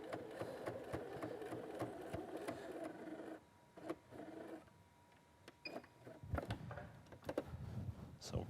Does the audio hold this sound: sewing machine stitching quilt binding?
yes